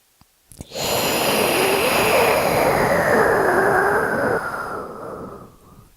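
Steady, loud breath drawn in and let out through the nose and mouth during a 90/90 breathing drill, one long airy inhale-exhale cycle that fades near the end, heard alone with no talk.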